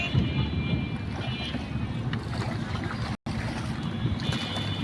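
A boat on the Buriganga river at the Jinjira ferry ghat gives a continuous low rumble and wash of water, with heavy wind buffeting the microphone and a brief dropout near the end.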